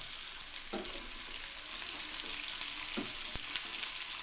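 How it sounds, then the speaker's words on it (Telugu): Cumin, mustard seeds and garlic fry in hot oil with an even, high hissing sizzle, nearby and steady, with a few soft clinks of a spoon against the pan and no speech. "కొంచెం జీలకర్ర కాస్త ఆవాలు ఎల్లిపాయలు కొంచెం బాగా వేసుకుందాం"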